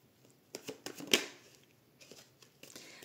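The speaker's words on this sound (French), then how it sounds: "On va tirer juste 2-3 cartes avec le tarot du coup." Tarot cards riffle and slap softly during a shuffle, with a cluster of quick flicks and one sharper snap followed by scattered lighter card sounds nearby.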